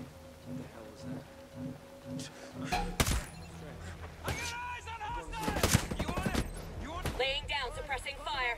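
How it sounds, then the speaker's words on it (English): Gunfire in Ghost Recon Breakpoint, several sharp loud shots and short bursts cracking out over the second half amid game effects, with voices talking throughout. "Laying down, suppressing fire."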